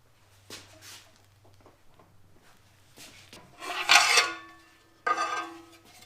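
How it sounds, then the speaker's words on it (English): Aluminum sheet being bent on an Eastwood 12-inch box and pan brake, soft scraping and rubbing of metal followed by a louder grinding bend and a final metallic creak, close and without talk. "Here I'm using my Eastwood 12-inch box brake and pan to put some really nice crisp bends into that aluminum piece."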